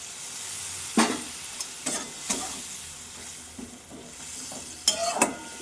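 Poppy seed stems frying in a pan hiss and sizzle steadily as water is added, with several sharp bursts of spitting and stirring clatter standing out over the continuous frying noise.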